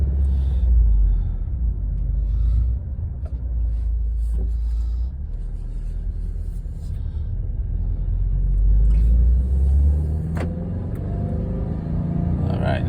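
A Subaru WRX drives slowly through a residential neighborhood, its engine a steady low rumble that swells gently twice as it accelerates, heard close from inside the car with no talking.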